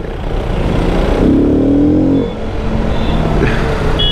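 A KTM motorcycle engine hums and revs briefly while riding near Chota Ladakh, a steady close drone with a short rising whine in the middle.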